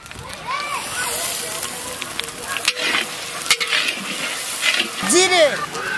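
Ginger and garlic sizzle in hot oil in a village-style kitchen while being stirred. The frying crackles steadily and close, with occasional scraping and sloshing, and a voice talks over it.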